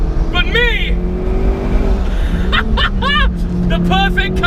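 A Ferrari 488 Spider or McLaren 650S supercar engine hums along an open road under excited shouting, the engine tone rising and falling steadily beneath the voice.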